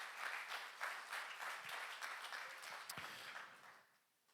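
A church congregation gives loud applause and acclamation during a Sunday morning celebration service, dense sustained clapping that fades out toward the end.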